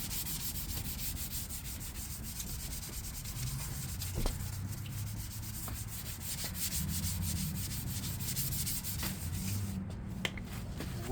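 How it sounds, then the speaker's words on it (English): Steady, close scratchy rubbing of 3000 grit sandpaper wet-sanding car paint during a DIY paint job, a continuous low hiss with small strokes and occasional light taps throughout, no talking. "We're going to go over it again with the 3000 grit."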